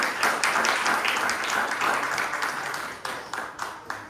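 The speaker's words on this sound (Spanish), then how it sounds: "Nos recibimos un fuerte aplauso al Señor." Church congregation during a Sunday sermon gives a loud round of applause, dense rapid clapping from many hands that thins into a few scattered claps toward the end.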